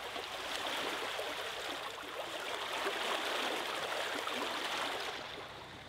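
Water rushes and gurgles steadily as a canal lock drains on the way to the River Thames, heard from a narrowboat as a continuous close wash that fades slightly at the end.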